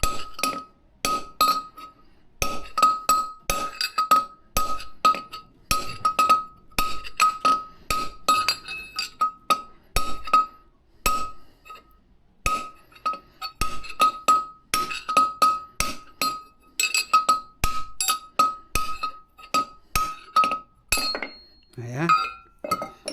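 Repeated sharp metallic knocks as a front wheel bearing race is driven out of the hub of a Mercedes 410D, struck evenly around its edge, with ringing clinks in a steady rhythm, close and loud, and brief talk near the end.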